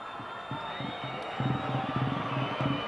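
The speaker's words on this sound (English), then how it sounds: "Now listen to the crowd." Crowd at a Division II championship baseball game between the Canyon Comanches and Upland Highlanders, a steady broad roar that swells louder halfway through, with rhythmic chanting or clapping pulses underneath.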